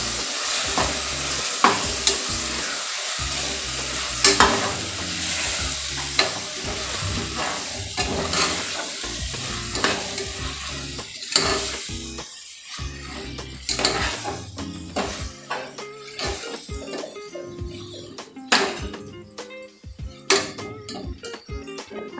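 Spices for vegetable biryani sizzle in a hot pan while a utensil stirs and scrapes through them in repeated strokes, loud and close, with no speech.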